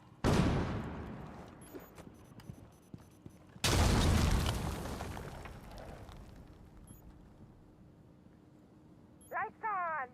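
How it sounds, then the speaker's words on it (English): A stun grenade going off in the tactical shooter Rainbow Six Mobile: two loud broadband blasts a few seconds apart, each trailing into a fading roar, with a short electronic chirping tone near the end. "Stun grenade out!"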